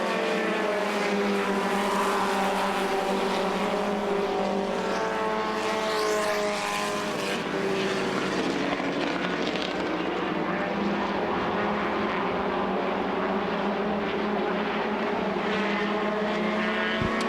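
Stock race cars roaring around Lee USA Speedway during the Oktoberfest race, a continuous loud engine drone with shifting pitch as cars pass, filling the whole stretch with no talk over it.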